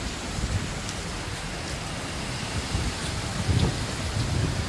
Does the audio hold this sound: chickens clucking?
no